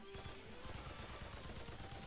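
Rapid gunfire from the video game Remnant 2, a continuous quick string of shots heard quite faintly, blended with game noise and no clear gaps between them.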